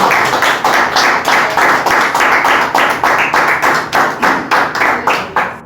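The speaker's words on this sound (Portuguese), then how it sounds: "Quem pode dar uma salva de palmas" A church congregation claps in unison during a service, with loud, steady rhythmic claps repeating about twice per second, close and continuous, without talk over them.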